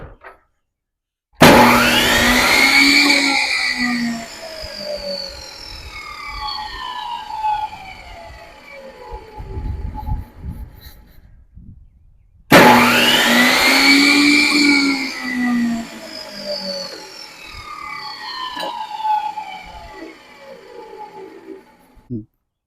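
A Ryobi BTS15 table saw, just fitted with a replacement safety switch, starts loudly, runs with a whining motor, then winds down. The start, run and spin-down cycle happens twice, close up, with no talking.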